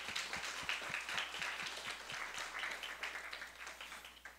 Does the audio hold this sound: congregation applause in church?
yes